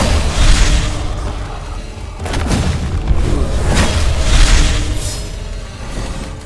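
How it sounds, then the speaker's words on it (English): A parry impact in a Soulslike action game: heavy booming metallic hits land in a quick series, each a loud full-bodied crash over a dense rumbling game soundtrack, with no talking. "this parry impact sounds absolutely orgasmic"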